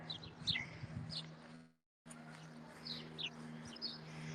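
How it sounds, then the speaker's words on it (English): Birds chirp in short, bright bursts around Jedburgh Abbey on a summer day, scattered tweets over a soft outdoor hush, with a brief gap of silence midway. "Do you hear all the chirping birds?"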